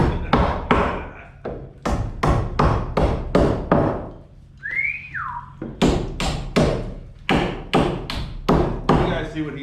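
A hammer striking wood in quick bursts of sharp, close blows with a short pause midway, a brief squeaky sound in the gap and people talking over it.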